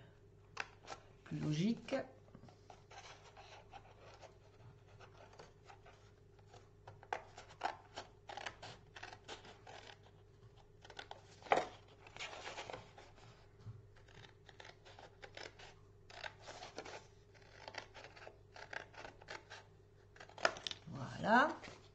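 Scissors snipping card or paper while a box with a lid is crafted, short crisp cuts scattered through the clip, close and fairly quiet, with someone speaking French softly between them.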